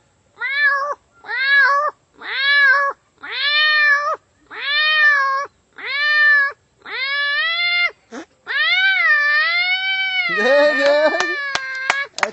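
A man vocally imitates a fierce cat fight, producing a series of about eight drawn-out, rising yowls followed by a longer wavering caterwaul, loud and close with no other sound behind it.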